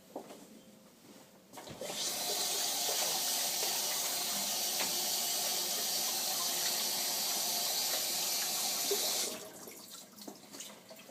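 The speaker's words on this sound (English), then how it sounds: "I'm just going to wash my hands really fast." Tap water runs steadily into a kitchen sink for about seven seconds as hands are washed, a soft even hiss and splash that cuts off cleanly, with faint clatter before and after.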